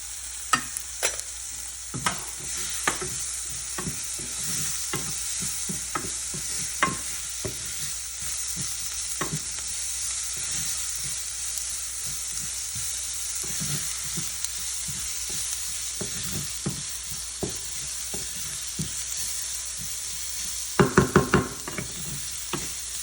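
Sprouted moong stir-fries with chili powder in a pan, a constant sizzle under repeated spoon scrapes and taps, with a quick burst of knocks against the pan near the end.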